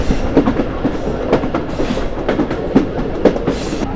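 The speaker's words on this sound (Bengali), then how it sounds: "এখানে আমাদের ট্রেন থামবে না।" The Mongla commuter train runs along the rails, a loud, close rhythmic clickety-clack of wheels over rail joints with a steady rumble and no voices.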